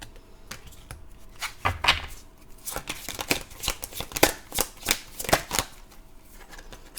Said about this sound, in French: Un roi de bâton.